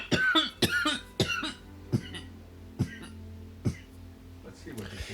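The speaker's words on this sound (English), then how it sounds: "You need to stop coughing" Several sharp, harsh coughs come in a quick burst, then a few spaced single coughs follow, close up, with a bit of voice near the end.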